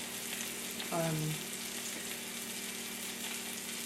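Frikadeller, Danish meatballs, frying in a pan, a close, even sizzle throughout, with a short tonal squeak or hum near the start and no voices.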